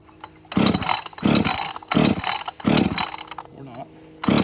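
A Husqvarna 562XP chainsaw revs up in four loud, close bursts, each dropping back to a rattling idle between them.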